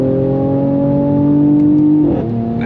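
A 2023 Mercedes-AMG C43 accelerates on throttle, its engine a loud, steady drone from inside the cabin with a smooth rising whir and a brief shift in pitch near the end.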